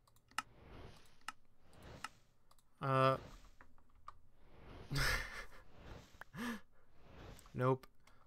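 Keyboard and mouse clicks during a Minecraft modpack session, scattered soft taps and clicks under a quiet backdrop while a voice speaks in short bursts between them.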